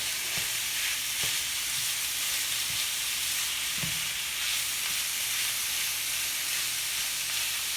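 Ground turkey with onions and peppers sizzles steadily in a pan, a broad continuous hiss with a few soft knocks from stirring, close and even with no talking.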